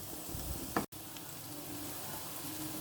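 Capsicum pieces are added to a pan with potato and carrot, bringing a short louder burst of sizzling followed by a brief cut, then a quiet, steady frying hiss.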